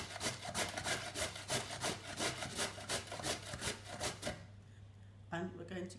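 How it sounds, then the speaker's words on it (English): A sweet potato is rasped against a grater in quick, even back-and-forth strokes, about a dozen crisp scraping passes close by, then a pause and a couple of fainter strokes. "First thing we need to do is grate the sweet potato."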